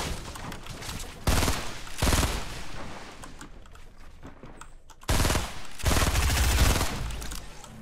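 Bursts of rapid automatic gunfire in Fortnite Battle Royale, two loud sustained volleys separated by quieter scattered shots, close and dominant with no talk over them.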